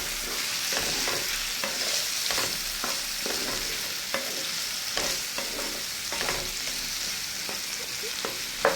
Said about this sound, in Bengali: সবগুলো একটু বাদামি কালার করে ভেজে নিব।